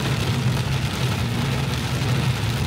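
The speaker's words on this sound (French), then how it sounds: "c'est le déluge total" Heavy rain pours down in a dense, steady hiss during a cycling road race, mixed with a low engine rumble and no voices.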